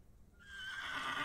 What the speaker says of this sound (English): Horse! Oh my god!